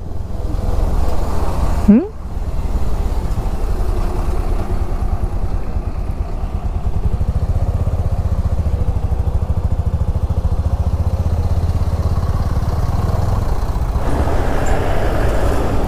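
A Bajaj Pulsar 220F motorbike engine hums steadily at close range with heavy wind rumble, a continuous ride at speed along a highway with no pauses.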